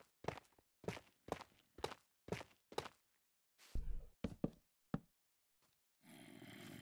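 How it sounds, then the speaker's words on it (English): Footsteps in a video game, a steady series of about six evenly spaced dull thuds, then a few irregular heavier steps and a rising rumble at the end, with no one talking. "It's like I can hear footsteps"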